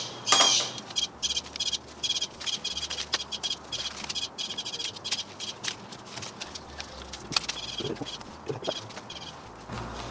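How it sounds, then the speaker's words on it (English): A bird chirps in short scattered tweets over steady faint background noise in a workshop, with a few sharper calls standing out. "I'm gonna call the cops on that bird"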